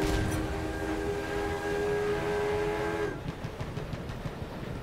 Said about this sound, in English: Our armored train has arrived.